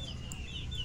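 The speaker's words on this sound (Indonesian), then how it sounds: "Ini adalah ayam jenis pakoi." A Pakhoy fighting chicken gives a single short, quiet cluck over low, muffled background noise.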